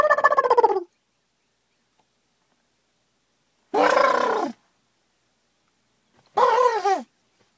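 Three loud, rapid turkey gobbles ring out close by, each a burst of warbling notes separated by several seconds of silence.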